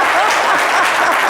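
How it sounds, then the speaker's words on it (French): Audience applause at a live talk show broadcast, a steady dense wash of clapping from many hands, moderately loud and continuous for a brief moment. "Applaudissez encore."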